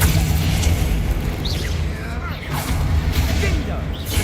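A Confringo blasting spell detonating in Hogwarts Legacy, a muffled boom with crackling bursts and swooshes amid dense game ambience and combat noise.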